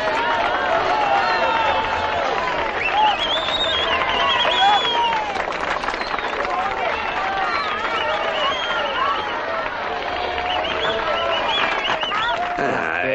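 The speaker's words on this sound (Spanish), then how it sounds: "¡Un aplauso para ellos!" A large concert audience applauds and cheers as the band takes the stage, a steady, dense wash of clapping and crowd roar that holds for the whole stretch with no clear pauses.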